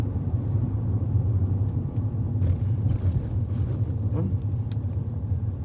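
An adapted learner car drives slowly and steadily along a road with speed bumps and potholes, its engine and tyre noise a constant low rumble close by with no break.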